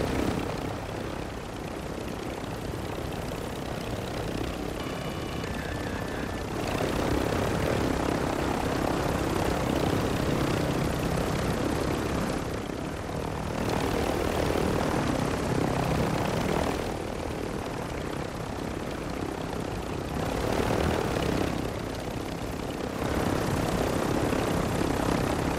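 A propeller airplane engine drones loudly and continuously in the Call of Duty video game, the steady roar swelling and easing in several broad waves with no speech.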